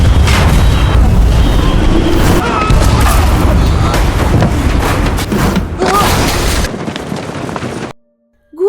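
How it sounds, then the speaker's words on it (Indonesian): A huge explosion tears through a cave in a film, setting off a loud, booming, rumbling roar with crackling debris that lasts several seconds, then cuts abruptly to silence. "Tiba-tiba ada ledakan dahsyat."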